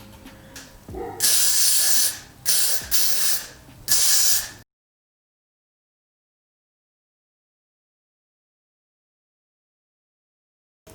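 Spray applied over a bald cap during a beginner wig install comes as about four loud, close hissing bursts in quick succession, followed by silence.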